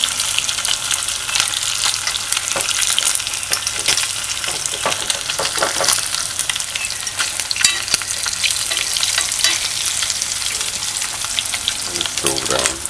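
Spam luncheon meat frying in a pan, a close, steady, busy crackle and sizzle that continues throughout with occasional sharper pops.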